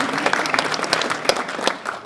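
Audience members at a Toastmasters meeting break into a short burst of close, lively clapping with dense overlapping hand claps for about two seconds.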